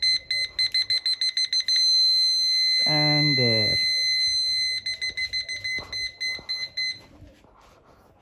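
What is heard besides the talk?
reverse parking sensor beeping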